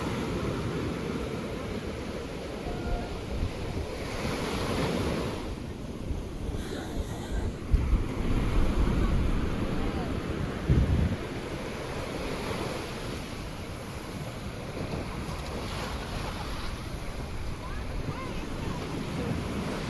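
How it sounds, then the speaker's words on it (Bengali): Ocean waves surge and break one after another on secluded Yarada beach, a loud rolling wash with wind buffeting the microphone and brief louder crashes. "একটার পর একটা ঢেউ এসে পায়ে ভাঙছে।"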